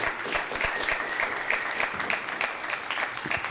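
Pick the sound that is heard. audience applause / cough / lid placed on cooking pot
audience applause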